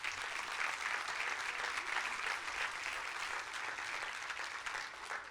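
A church congregation applauding steadily, a dense wash of clapping that holds at a constant level throughout with no talk.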